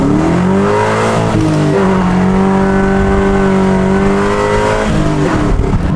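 An LS3-powered Chevy Colorado truck with an open differential cruises along, its V8 engine droning loudly and steadily, with the pitch easing, dipping briefly and then rising again as the revs change; no voices.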